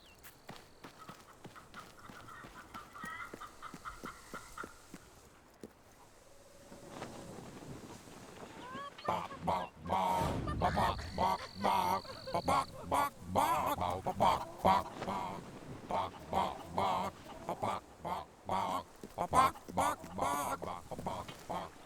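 Chickens cluck and squawk in the fantasy game Fable 3, a busy, irregular flurry of bird calls building over ambient wind and background game sounds, with faint speech early on.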